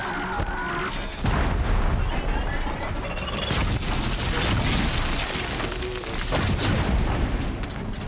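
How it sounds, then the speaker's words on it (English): A rocket-launch explosion in Horizon Zero Dawn, loud booming blasts over mechanical whirring and clanking machine noise, dense and sustained with two heavier bursts. "And rocket launch."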